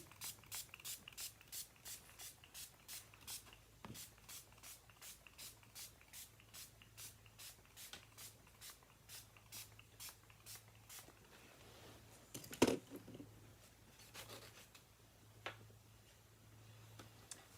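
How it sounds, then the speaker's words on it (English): Quiet, regular clicks repeat steadily as a spray bottle's trigger pumps fine mist onto watercolor paper, with a sharper knock partway through and low hum underneath. "I'm going to go ahead and I'm going to give my paper a light misting"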